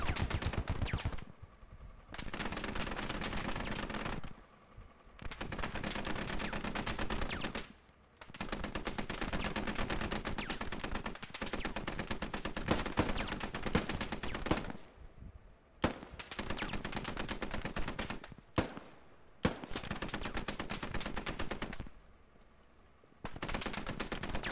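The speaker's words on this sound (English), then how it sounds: "where are they shooting me from?" Sustained automatic gunfire in the military shooter game Squad, with long dense bursts of rapid shots broken by short pauses and a few single cracks, loud and close throughout.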